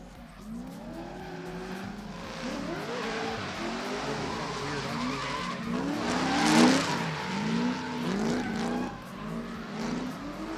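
Two cars drift in tandem at a plains drifting event, one leading and one chasing, with engines revving and tires squealing steadily through transitions, swelling louder midway as they pass close, under a background commentator's voice.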